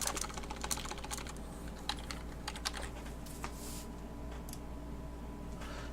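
Fast, irregular clicking of keys on a computer keyboard as a file name is typed, close and steady throughout over a low electrical hum, with no talking.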